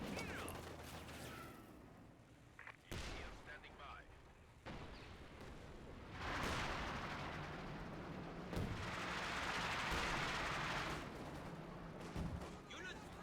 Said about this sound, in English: What a good barrage here for NiteNite.